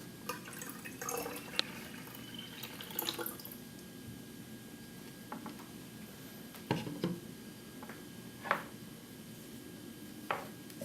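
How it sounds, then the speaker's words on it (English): Tap water runs quietly while lab glassware is rinsed after pH calibration, with scattered drips and splashes over a low, steady trickle. "You now can then pour the used solution into a used bottle and rinse with tap water."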